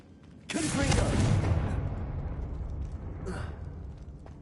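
A Confringo fire spell bursts in Hogwarts Legacy with a loud explosive whoosh that swells quickly, then rolls into a long rumbling decay. A second, smaller crackling burst follows near the end.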